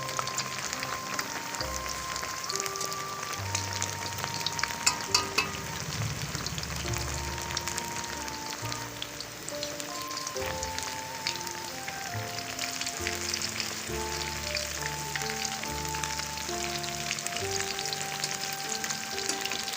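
Beef shami kababs fry in oil in a pan with a steady, close crackling sizzle, and occasional louder pops and stirring sounds over a continuous hiss. Background music plays underneath.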